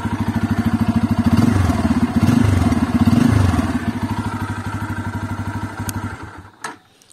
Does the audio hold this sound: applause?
no